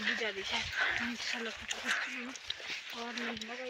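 Dogs yip and bark in short, repeated bursts at close range in a hill village in Himachal Pradesh, with people talking throughout over them.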